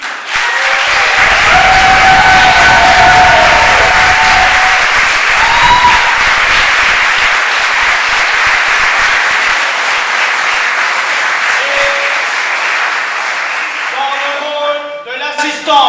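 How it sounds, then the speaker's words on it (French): A theatre audience at a stage play claps steadily and loudly for a long stretch, the applause thinning and fading out near the end. "Je vous demande d'applaudir Madame Odile Jacqueline."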